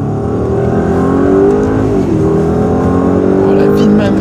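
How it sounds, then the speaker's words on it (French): A stage 2 tuned Audi S8's 4-litre V8 engine roars loudly and steadily as it accelerates, its deep rumble rising slightly in pitch, close to the listener. "Dans la S8 4 litres V8. Très bon moteur."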